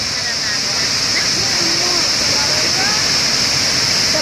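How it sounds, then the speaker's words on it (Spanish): A waterfall at the Saltos Hermanos falls with a loud, constant rushing roar, close and unbroken, while people talk underneath it. "¿Qué le parece el agua, la cascada?"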